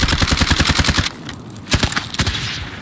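Automatic gunfire in the Call of Duty Warzone video game: a rapid burst of close, loud shots, then a pause and two more short bursts.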